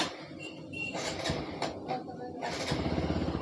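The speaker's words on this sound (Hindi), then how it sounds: "मैं बाइक को कर देता हूँ स्टार्ट" A TVS Apache RTR 160 BS6 motorcycle cranks and starts, its engine catching into a steady mid-pitched idle by the end, heard close up in the open.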